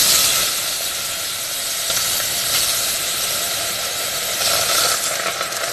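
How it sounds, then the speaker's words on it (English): A continuous splashing hiss of hot pepper soup liquid pouring steadily through a sieve, close and fairly loud, with faint metallic rattles now and then. "I'm going to pour it, sieve it."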